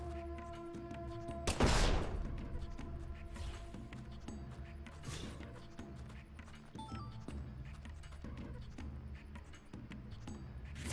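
Deadly Premonition 2 combat: a sharp loud burst of gunfire near the start, then scattered fainter shots and clatter over a steady game background.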